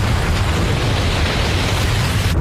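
Alaskan avalanche roaring down in the night: a loud, dense, continuous rumble with booming low end and crackling texture, unbroken and overwhelming throughout.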